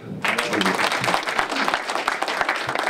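A live audience applauds a speaker being called up at a political gathering in London, with dense, sustained clapping that starts abruptly and continues steadily throughout, some voices mixed into the crowd noise.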